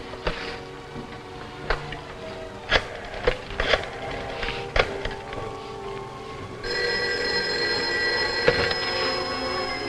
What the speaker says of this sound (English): I'm going to call you on this other phone.